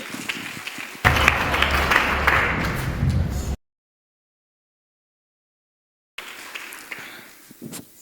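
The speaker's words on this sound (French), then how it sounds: "est-ce que nous pouvons applaudir pour monsieur?" Audience applause at a preschool guidebook launch ceremony swells abruptly, runs for a few seconds, then cuts out; after a gap, scattered clapping and shuffling return at a lower level.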